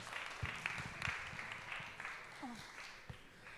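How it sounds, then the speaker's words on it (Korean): A church youth-service audience claps in welcome, a faint, scattered round of applause with a few louder individual claps, heard at a distance with murmuring voices underneath. "큰 박수로 환영하게 해주시면 감사합니다."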